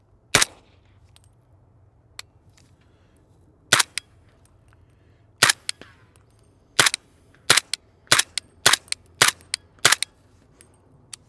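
Suppressed rifle shots from a 300 BLK rifle fitted with a brand-new Silencer Co Velos 7.62 can, a dozen or so sharp cracks spaced irregularly, close and loud against a quiet background.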